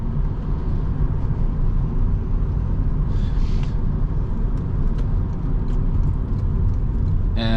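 A 2024 Toyota Yaris Hybrid with a 1.5-liter gasoline engine cruising along, its steady low road rumble and engine drone filling the cabin continuously, with faint clicks and no speech.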